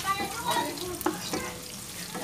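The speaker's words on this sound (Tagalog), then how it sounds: "umpisahan ko na siyang gisahin. Unahin ko ang sibuyas." Onions sautéing in a pan for a Filipino binagoongang baboy, soft sizzling with a few scraping stirs and light clinks, close and moderately quiet with no talk.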